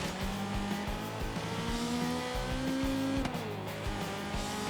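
A racing car's engine roars in Forza Horizon 3, loud and close, its pitch climbing through the gears with clear upshifts before settling, accompanied by light tire squeal.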